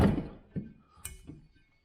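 A metal propane tank set down onto a freshly mounted bracket on the back of an overland vehicle, giving a couple of dull close thunks and a light knock, with a brief faint voice in the background.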